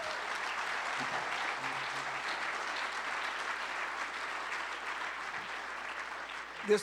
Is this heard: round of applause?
yes